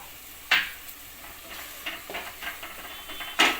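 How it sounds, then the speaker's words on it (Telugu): Green chillies frying in a pan for paneer butter masala, a soft steady sizzle broken by a few sharper spatters and light stirring scrapes, close by with no talk. "గ్రీన్ చిల్లీస్ కూడా వేసేసుకుంటున్నాను."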